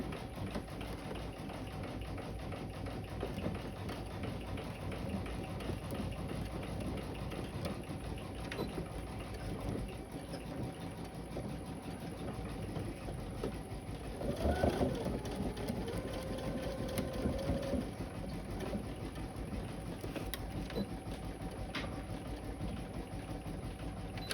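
A sewing machine stitches a Roman chasuble, running as a steady mechanical hum and rattle throughout with a brief louder, shifting whir midway, close by and with no talk.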